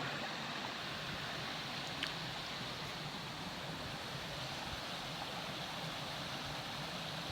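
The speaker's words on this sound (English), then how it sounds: "Listen to running water all night." Steady rushing of a running creek in Talladega National Forest, a broad continuous hiss and burble that stays even throughout, moderately quiet with no voices.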